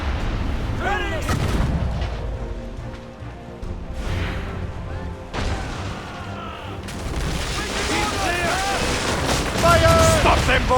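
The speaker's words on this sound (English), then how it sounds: "Ready to fire! Fire!" Ship cannons fire in a naval battle in Assassin's Creed Rogue, heavy booms and crashes scattered across the stretch amid battle noise and shouting voices.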